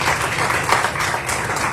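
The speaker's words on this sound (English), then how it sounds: "Can we give Ms. Sombright a round of applause" A modest round of applause rises at a school board meeting, scattered hands clapping steadily in a room, moderately loud and continuous, with no one speaking over it.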